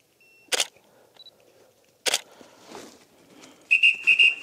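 Camera shutter clicks sound twice, then a short, shrill whistle is blown in three quick bursts near the end, close and loud.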